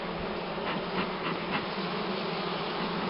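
Honey bees hum in a thick, constant drone, near and fairly loud, a swarm nesting on ceiling boards, buzzing with no other sounds.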